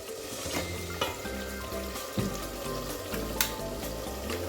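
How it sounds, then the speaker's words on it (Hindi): Masala fries in hot oil in a home kitchen, with a dense steady sizzle and crackle and occasional spatters and stirring scrapes. "ये देखिए मज़ेदार मसाला रेडी हो रहा है, तेल भी छूट रहा है।"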